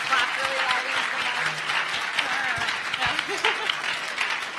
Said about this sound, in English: Just clap really loud into the